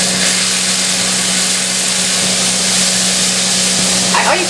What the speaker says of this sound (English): you just want to saute the garlic while lightly brown